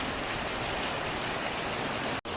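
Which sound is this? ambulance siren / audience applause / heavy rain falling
heavy rain falling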